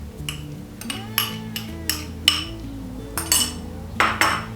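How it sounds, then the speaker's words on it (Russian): Vegetables are stirred into thick strained yogurt in a bowl with a metal spoon, which clinks and scrapes against the dish in irregular knocks, close up and with no talk. "И все хорошенько перемешиваем."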